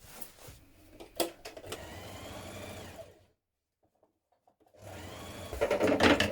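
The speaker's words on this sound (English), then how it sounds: "I'm going to sew from here to here, joining this part of the bottom where we've just joined our sides and our long edges." A sewing machine stitches the bottom corner seams of a fabric storage box, running steadily for about three seconds, stopping in near silence, then starting again with a louder, faster burst.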